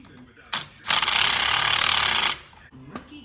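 A pneumatic impact wrench runs down a nut onto a bolt on a kart's rear shifter assembly, a short sharp click then one loud rattling burst of about a second and a half, close, with faint voices.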